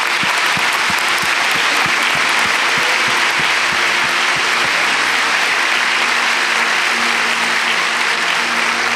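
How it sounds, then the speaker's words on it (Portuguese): Loud applause from a church congregation at an Easter service, a dense roar of many hands with a few sharp near claps early on and a low musical hum underneath, continuing without letup. "Uma salva de palmas àqueles que nasceram de novo."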